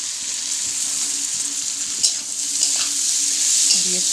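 Soaked cashews and raisins go into vegetables frying for wedding-style fried rice, setting off a loud, steady hiss with stirring scrapes of a pan throughout.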